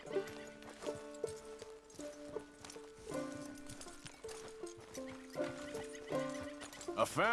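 A horse whinnies and snorts in Red Dead Redemption 2, with hoofbeats shuffling over sustained game music, and a sharper neigh closing out the passage.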